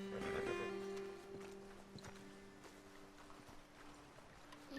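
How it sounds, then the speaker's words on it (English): Horses walk in Red Dead Redemption 2 with faint, irregular hoof clops over a soft low hum, some louder at first, then fading. "Okay, let's dismount here. Best leave the horses back a bit."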